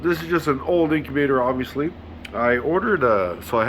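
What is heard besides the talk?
No distinct noise like a dog, phone or traffic.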